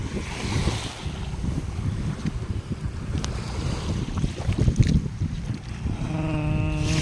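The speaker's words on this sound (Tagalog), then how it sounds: "Dagat po ng Dunsol, Sorsogon." Wind blows steadily across the sea shore at Dunsol, Sorsogon, with continuous surf and wave wash underneath and a brief rumbling swell midway, close-miked and fairly loud with some microphone buffeting.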